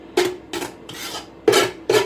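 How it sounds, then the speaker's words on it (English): Metal spoon scraping and scratching cottage pie filling out of a pan, four or five rasping strokes in bursts, close and fairly loud, with no talking. "Sorry about the scraping and the scratching."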